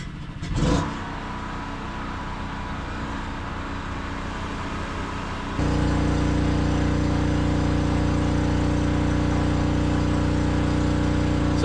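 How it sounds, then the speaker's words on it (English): A portable generator engine with a recent fault runs nearby as a loud, steady mechanical drone, stepping up to a heavier, louder hum partway through and holding constant, no talk. "my generator's giving me issues lately"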